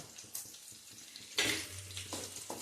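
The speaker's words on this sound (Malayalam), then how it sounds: "ഇനി ഇത് നന്നായിട്ടൊന്ന് നമുക്ക് വഴറ്റി കൊടുക്കാം" Green chillies being sautéed in a pan for a curd chilli curry give off a soft, intermittent sizzle with scraping stirs, and one louder burst of frying near the middle.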